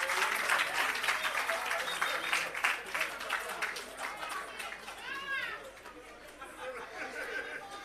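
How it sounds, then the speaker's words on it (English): Steady audience applause at the commissioning of an irrigation system, dense clapping mixed with crowd chatter and children's voices, tapering off in the second half as talk continues. "Please give Mr. Reid a round of applause"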